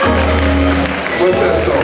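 A church congregation applauding during a service led by a bishop: dense, loud clapping from a large crowd fills the room, with voices mixed in throughout.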